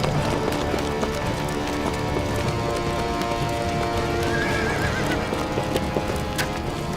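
Soldiers' horses neigh repeatedly over a steady drumming of galloping hooves, loud and busy throughout, with a dense clatter of riders moving off together.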